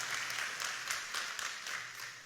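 An audience at a book dedication ceremony in Senegal applauds the ambassador: faint, steady clapping that swells slightly in a few soft waves and continues throughout.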